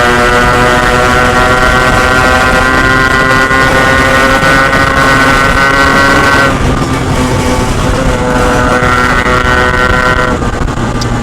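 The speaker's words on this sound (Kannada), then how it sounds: "ಸೈಲೆನ್ಸರ್ ಅಷ್ಟೇ ಸಕಲಾಗಿದೆ ಸೌಂಡು." A Yamaha RX135 motorcycle runs loud and close through its silencer exhaust, a continuous buzzing engine drone with a tonal edge that dips in pitch partway through before rising again.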